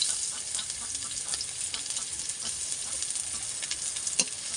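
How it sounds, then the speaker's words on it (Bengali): Chopped onion fries in hot mustard oil in a pan, producing a constant close crackling sizzle with small pops and stirring scrapes throughout. "তেলটা গরম হয়ে গেছে এবার তেলের মধ্যে দিয়ে দিচ্ছি পেঁয়াজ কুচি"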